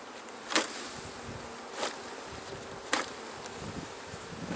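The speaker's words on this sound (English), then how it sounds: "Now we're going to see a lot of buzzing right now." Honey bees buzz in a dense, steady drone while nucs are installed in a hive, close up, with three brief sharp knocks or taps standing out and no talk.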